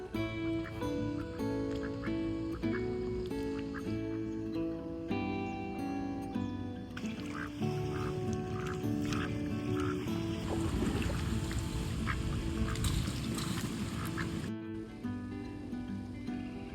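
Ducks quack on water, several birds calling in a busy, overlapping chatter with splashing and swimming, fairly close and continuous.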